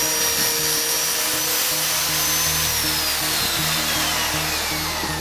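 A Lumberjack plunge saw runs continuously through a cut, a loud, steady high-pitched motor whine with a low drone underneath, close by and without pause.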